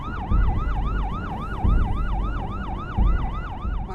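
An ambulance siren wails in a steady rapid up-and-down sweep, loud and close, with a low rumble of traffic or engine beneath it.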